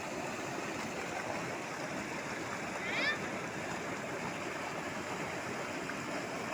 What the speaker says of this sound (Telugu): చూడండి ఎంత ఫోర్స్గా వెళ్తుందో వాటర్.